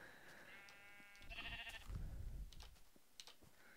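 Sheep bleating in the Minecraft video game, a couple of short nasal bleats standing out clearly against quiet game ambience, with a low rumble midway and no talking.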